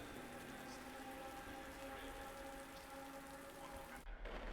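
Steady rain falls on Suzuka circuit in a GT3 racing game, a dense continuous hiss that holds at an even level before a brief dip near the end.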